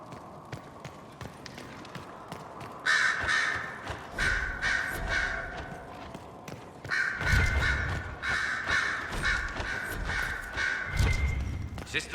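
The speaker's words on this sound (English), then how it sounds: "Sister Leliana will want access to the birds" Crows in the video game Dragon Age Inquisition, in a stone fortress setting: repeated harsh caws in two loud bursts, over footsteps and ambient game noise, with no talk during the calls.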